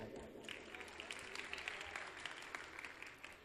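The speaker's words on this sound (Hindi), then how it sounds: "इसलिए मैं कह रही हूँ कि इनके लिए तालियां बजा दें।" An audience at a mushaira poetry gathering in Paharpur, Azamgarh, gives scattered applause, faint and distant, with quick uneven claps throughout.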